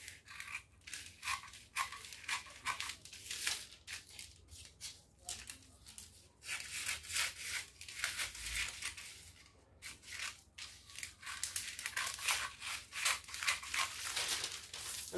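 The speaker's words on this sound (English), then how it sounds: "I'll go ahead and cut it out." Scissors snip through fabric while a basic pinafore bodice pattern is cut out, crisp repeated cuts and crunchy rustling of the cloth coming in bursts with brief pauses, close and fairly quiet, with no talking.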